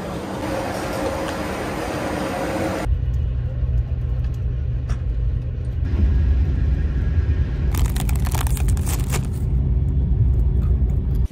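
Rumbling road noise inside a moving car near Annecy, a steady low drone that shifts in level, with a few brief clicks and rattles over it.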